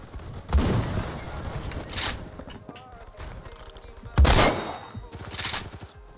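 Sniper rifle shots in the Phantom Forces video game, four loud cracks with echoing tails spaced a second or two apart, with faint talk in between.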